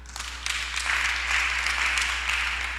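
A church congregation at a discipleship training session gives a short burst of applause, a dense patter of many hands clapping that swells and holds for a few seconds.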